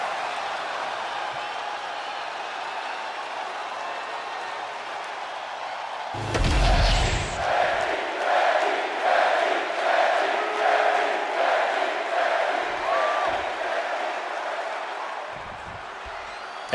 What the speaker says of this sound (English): this capacity crowd is ready to see Becky Lynch in action